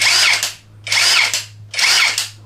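A Maxbuilt cordless impact drill runs in three bursts of high-pitched whirring with short pauses between, loud and close, with no one speaking.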